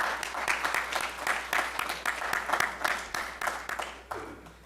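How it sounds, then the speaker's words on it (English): Audience in a lecture hall applauding a speaker, a moderate burst of clapping with uneven rhythm that tapers off after a few seconds. "Let's have one more round of applause for Samantha's Leadership Minute."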